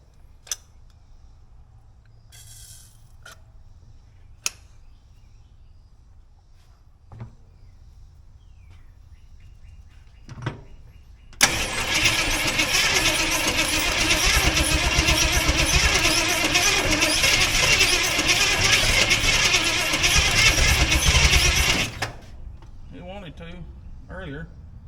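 After a few faint ticks, the engine of a Jeep Cherokee Chief turns over and catches on its primed carburetor, running at a loud, steady idle for about ten seconds before cutting off.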